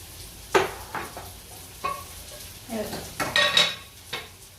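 Onion and turmeric frying in a pan for aloo paratha, a soft sizzle under repeated spatula scrapes and metallic clinks against the pan, with no talk.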